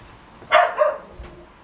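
A dog gives a single short bark, fairly close and clear, followed by a softer second yip in an otherwise quiet room.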